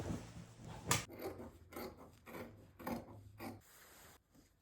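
Scissors cutting the fabric of an XL jacket, a few soft rasping snips and rubbing strokes up close, quiet and uneven with short pauses between cuts.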